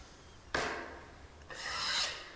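A drywall knife scrapes joint compound off the edges of an internal drywall corner in two separate rasping strokes, the second longer and rising before it fades.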